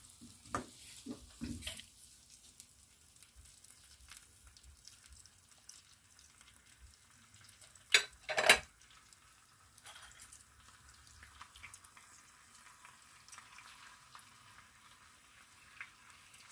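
Tomatoes fry in a pot for a Kenyan beef stew, a faint low sizzle broken by a few spoon stirs and sharper scrapes against the pot's side.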